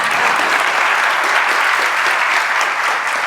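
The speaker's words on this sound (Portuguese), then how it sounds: "Você podia até aplaudir assim, só porque eu estou me sentindo em casa." A church congregation applauding throughout, a dense continuous wash of many hands clapping at a steady, even loudness with no pauses.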